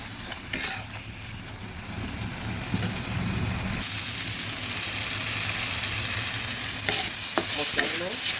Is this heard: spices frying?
yes